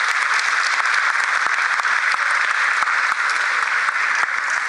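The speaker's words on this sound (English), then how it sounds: "welcome with a warm applause, Cedric Kremers, the country chair of Shell" Steady, dense audience applause from a large crowd at a youth day conference, loud and even throughout with no talk over it.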